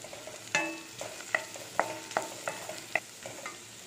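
Dried red chilies, curry leaves and other ingredients fry in oil for chow chow chutney, a soft sizzle punctuated by about eight sharp spatula clicks and scrapes against the pan, close and without speech.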